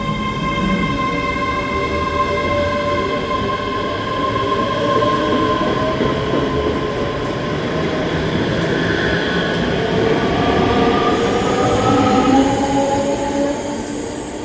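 A two-carriage passenger train departs, rolling with a loud continuous rumble while steady squealing tones from wheels or motors rise and shift throughout, close by on the platform.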